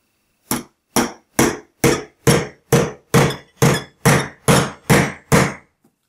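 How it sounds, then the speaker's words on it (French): Twelve sharp, evenly spaced hammer blows strike a Banebot motor part, each one loud and close with a quick decay, about two per second, with no voices in between. "Je crois que le marteau serait une meilleure option."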